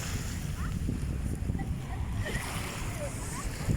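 A motorboat ride on Manila Bay: a steady low engine rumble and broadband wind and water wash run continuously throughout, with faint splashing on top.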